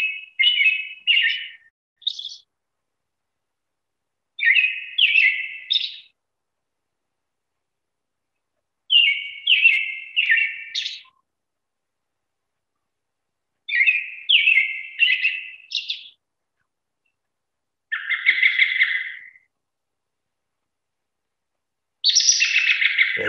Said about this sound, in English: the lovely cheer up, cheerily song, and a few contact calls at the end